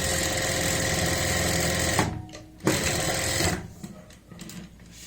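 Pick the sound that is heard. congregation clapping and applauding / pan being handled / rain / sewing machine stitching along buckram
sewing machine stitching along buckram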